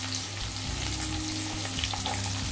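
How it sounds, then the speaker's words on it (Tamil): Onions sauté in a pan with curry leaves, dried chillies and tempered spices, making a dense, continuous loud sizzle with low rumbling underneath, heard close and without pause. "அப்புறம் வெங்காயம் போட்டு நல்லா வதக்கிக்கோங்க"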